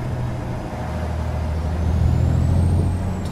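Volvo truck in Euro Truck Simulator 2, a steady low diesel engine drone close up with a rising whine and a brief air-brake hiss at the very end.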